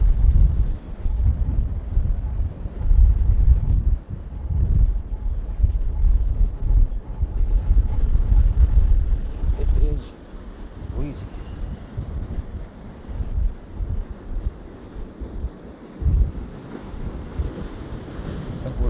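Strong wind roars across South Shields Pier in rough seas, heavy gusts rumbling into the microphone with surf behind, loud for the first half and then easing to lighter buffeting, with voices now and then.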